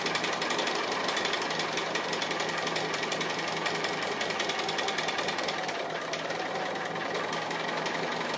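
A sewing machine runs fast and steady while stitching appliqué, producing a continuous close rattling hum with a rapid needle chatter throughout.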